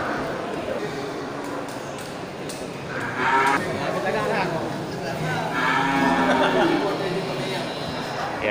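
Aceh cattle low and moo at a busy livestock market, the calls rising above steady crowd chatter and people talking nearby.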